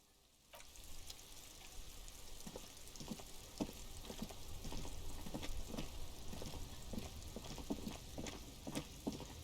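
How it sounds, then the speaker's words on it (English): Steady rain in Disco Elysium: a continuous hiss of falling water with scattered droplet pops and patters, starting abruptly and holding at a fairly even, moderate level with no talking. "This rain will not let up anytime soon."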